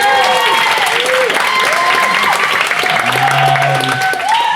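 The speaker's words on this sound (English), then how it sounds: "So give us a round of applause." An audience applauds at a spoken word poetry festival, a steady wash of clapping with cheers and voices rising over it throughout.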